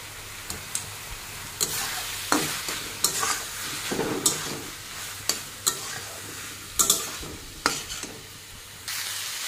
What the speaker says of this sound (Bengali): দেখো ভালো করে ভেজে নেবো এখন একদম লাল করে